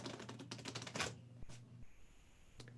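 A deck of playing cards is shuffled, giving a quick fluttering riffle of rapid close clicks followed by a few sparse taps, faint and with no speech.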